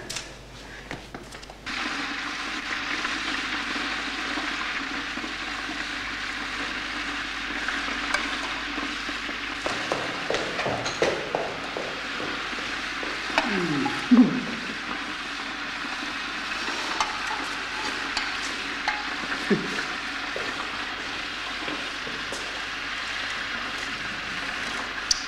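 Bacon slices frying in a pan on a kitchen stove, a steady close hiss and crackle of sizzling fat running throughout with occasional clinks of stirring.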